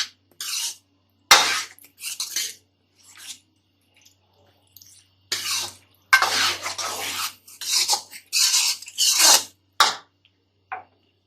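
Stirring potatoes in a pan after garlic paste is added for aloo palak, a series of scraping, rasping strokes in short irregular bursts separated by pauses, close and moderately loud.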